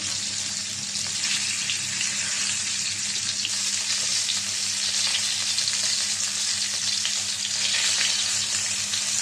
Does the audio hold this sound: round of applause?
no